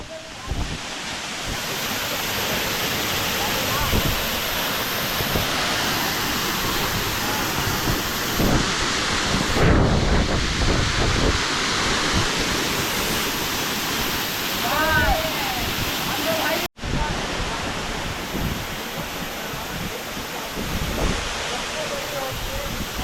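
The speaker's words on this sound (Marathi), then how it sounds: "एकदा वांगणी धबधब्याला येऊन बघा फक्त" A constant, heavy roar of falling water from the Vangani waterfall fills the scene from start to finish, with people's voices faintly audible beneath it.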